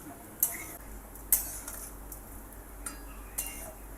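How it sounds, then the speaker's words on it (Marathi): Onion roasts in a pan for homemade kanda lasun masala, with a low background hiss and several sharp metallic clinks of a spoon against the pan while it is stirred, no talking. "तर आता आपण असा हलवून तो भाजून घेणार आहोत"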